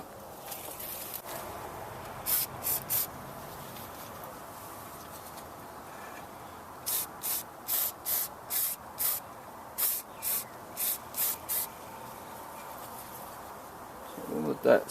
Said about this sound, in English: we can really spray and soak this